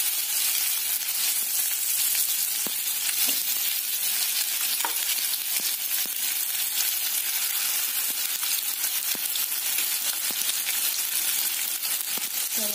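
Paneer pieces frying in hot oil, a continuous close sizzle with scattered sharp pops and crackles, steady in level and free of speech.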